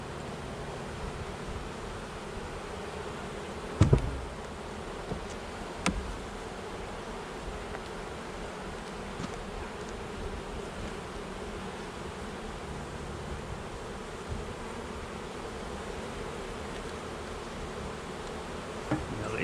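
Honey bees buzz faintly and steadily in an open hive during a late December check, a low continuous hum with a few soft knocks of handling.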